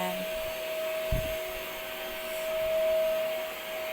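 Bossman Kaden K2 cordless vacuum cleaner running on carpet, a steady motor whine with a constant high tone and airy suction hiss, a brief bump partway through, and the pitch swelling slightly near the end.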